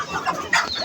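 Chickens cluck briefly at close range, a couple of short throaty calls with a sharper squawk near the end.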